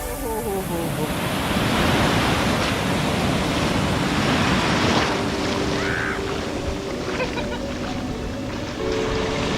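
Ocean waves wash onto a clean beach at Ganeshgule, Maharashtra, a steady broadband roar of surf mixed with wind noise that continues through the whole stretch.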